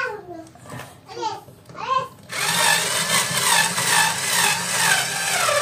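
A power drill bores a hole for a screw. Two seconds of talking come first, then the drill cuts in with a loud, gritty, continuous whine that wavers slightly as it bites into the material.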